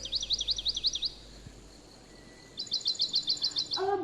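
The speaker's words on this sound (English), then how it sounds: "a bird" A small bird sings two bursts of quick, high, rapidly repeated chirping trills separated by a quiet gap, faint against a light background hiss, with a brief higher call at the end.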